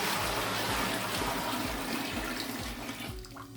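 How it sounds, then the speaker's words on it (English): A mixture of water, molasses and salt pours steadily into a bucket with a close, full gushing splash that thins to a trickle at the end. "I am just going to carefully pour this molasses mixture in here,"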